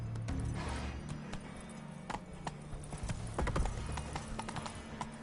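Roach, a horse in The Witcher 3, trots with close, clear hoof clip-clops in an irregular rhythm, with occasional snorting and a louder burst near the middle.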